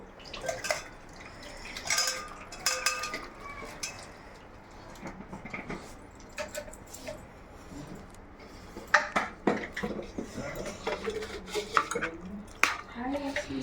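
Pots, pans and utensils clink and clatter in an irregular series of close knocks and scrapes as homemade chicken curry is served from the cooking pot into another bowl.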